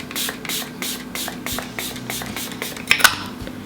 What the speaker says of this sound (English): take my setting mist again, the Wee Cherie setting mist, and spray this on